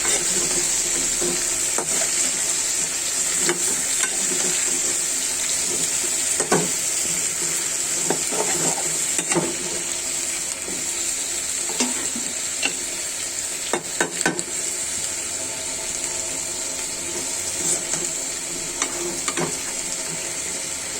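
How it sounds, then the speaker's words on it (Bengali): Frying in a pan after turmeric powder is added, a loud continuous sizzle with scattered scrapes and taps of a spoon stirring throughout. "অল্প করে একটু ভেজে নিব হলুদের গুঁড়া দিয়ে দিলাম"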